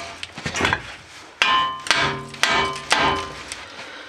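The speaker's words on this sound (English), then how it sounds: "Take a hammer, hit this a couple times." A hammer strikes a suspension part under a 2008 Ford Fusion while the frame is dropped to reach the lower ball joints, giving four sharp metallic blows at a steady pace after some fainter knocks, close and loud.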